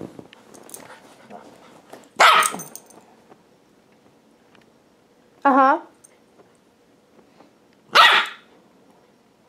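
A puppy gives three short, sharp barks spaced apart, one with a yelping, wavering pitch, over a quiet room with a brief murmured reply.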